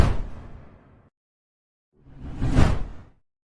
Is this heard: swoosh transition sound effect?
yes